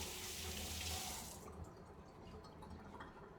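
Kitchen tap water running into a sink while chicken is rinsed: a steady, close, hissing stream that is loud at first, then drops to a softer flow with light splashing.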